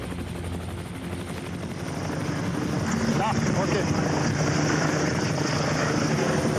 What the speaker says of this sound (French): L'hélicoptère s'est stabilisé à une vingtaine de mètres au-dessus de la piste.